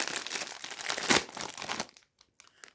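Someone opens a bag of ketchup-flavored Lulu snacks with loud, close crinkling and crackling for nearly two seconds. A few faint rustles follow in near quiet.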